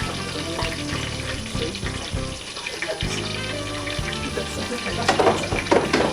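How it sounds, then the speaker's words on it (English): Milk is poured slowly into a hot pan and stirred in, bringing a bubbling sizzle with wet liquid splashes and intermittent utensil scrapes, close and steady, growing busier toward the end. "I like to slowly add that milk in there."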